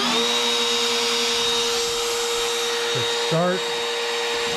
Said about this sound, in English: So I'll turn on the router.